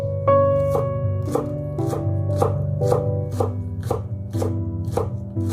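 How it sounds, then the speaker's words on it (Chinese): A knife chops a bunch of green onions into small scallion pieces on a board, striking about nine times in a steady, even rhythm, close up and clear with no talking. "再准备一把小葱，直接把它切成葱花"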